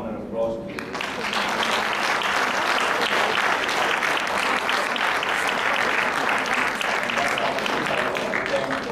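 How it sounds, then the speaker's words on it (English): Participants at an education leadership event in Malaysia applaud after being thanked, with loud, sustained crowd clapping and a few brief voices at the very start. "Please give a round of applause to you."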